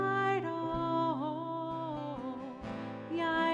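A rabbi sings a wordless nigun melody alone, a clear sustained voice gliding between held notes with brief breaths, close and moderately loud.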